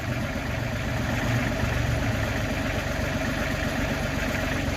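A 2023 Besthand BH6600 backhoe engine runs with a steady, dense diesel rumble while the machine digs into hard-packed dirt and gravel, close and continuous.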